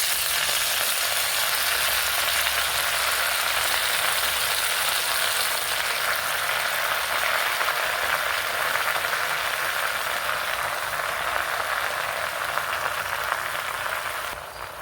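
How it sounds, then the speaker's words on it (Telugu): Gongura sorrel leaves fry in hot oil with green chillies, giving a loud, continuous dense sizzle and crackle that holds steady throughout with no talking. "గోంగూర వేగుతుందండి"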